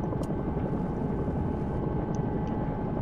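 Bell 222 helicopter taking off in the X-Plane 11 simulator, a steady loud rotor and engine roar with constant low thrum, continuous throughout with no talking.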